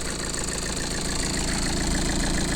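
A 2021 Tata Nexon XE diesel engine idles steadily close up, a loud continuous rumble with a fine rhythmic clatter and no voices over it.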